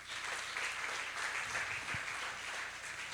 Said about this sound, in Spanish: ¿Cuántos le dan un aplauso al Señor por esto?